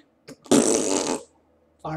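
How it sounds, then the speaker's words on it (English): A single loud, raspy fart lasting under a second in the Transformice game, preceded by a couple of short blips and followed by a brief spoken fragment. "I love my farts."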